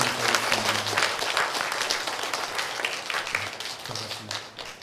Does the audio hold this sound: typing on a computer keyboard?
no